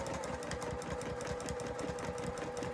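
A sewing machine stitches a quilt in a steady, rapid run of close mechanical clatter, carrying on at an even pace throughout with no talk.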